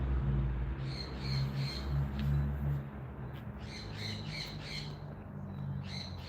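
Birds squawk indoors in short, repeated bursts, some clustered and some spaced apart, fairly faint over a steady low hum.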